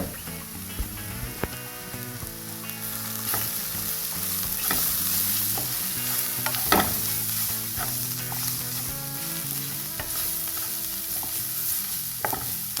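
Onions sizzle and fry in a pan for a Kerala-style beef fry with coconut as masala powders go in, with steady crackling, stirring scrapes and sharp spatula knocks running throughout over a faint tonal backdrop.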